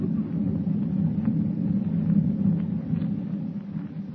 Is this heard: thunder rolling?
yes